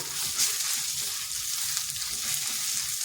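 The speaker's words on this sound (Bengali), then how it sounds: "এরপর মশলাটা একটু ভালোভাবে ভেজে নিচ্ছি" A spice mix of coriander powder and a little chili powder frying in a pan for a bottle gourd curry, making a steady, close hiss and sizzle throughout.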